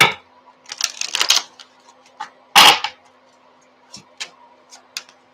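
Tarot cards are shuffled with a book in the middle of the deck: a quick flurry of close card flaps and riffles, then a sharp louder slap, then a few sparse taps.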